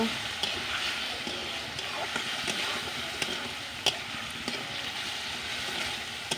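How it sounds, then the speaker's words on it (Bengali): Prawns frying in a cooked-down spice paste in a pan, a steady close sizzle with occasional soft clicks and scrapes from stirring. "এখন আমি কষানো মশলার মধ্যে চিংড়ি মাছগুলি দিয়ে দিলাম"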